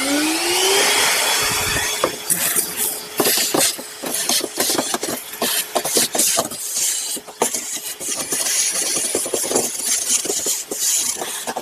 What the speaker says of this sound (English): make sure you use a shop vac and get that cleaned out